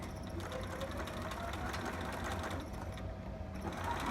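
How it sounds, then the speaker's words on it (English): A sewing machine straight stitches continuously and fairly loudly for the whole stretch, a steady mechanical whir with a faint rhythmic knock. "I'm going to straight stitch and go over"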